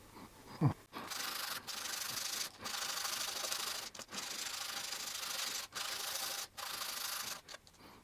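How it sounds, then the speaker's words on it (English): Wooden parts being hand-worked with nail files and sandpaper give repeated close rasping strokes, each a steady scratchy rub separated by brief pauses, with no talking. "After some detail work with nail files and sandpaper, I treat now the parts with beeswax"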